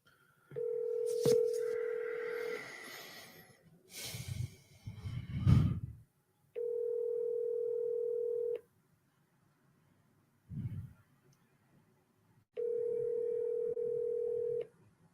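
A telephone produces three long, steady tones of about two seconds each, separated by silences, with a brief burst of dialing and some breathing and snorting noises near the handset between them.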